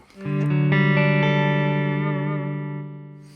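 A sustained electric guitar chord with chorus effect in a jazz fusion tone, struck once with a couple of quick re-attacks, then ringing out with a shimmering wobble before fading.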